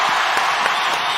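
Dense applause from a crowd at a PlayStation Showcase 2023 event, steady and loud for a brief moment.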